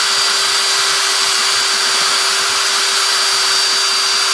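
A small drill bores screw holes for the flap servos in a 2.6 m composite ASH26 sailplane, a loud steady high-pitched whine running without pause, with no talking.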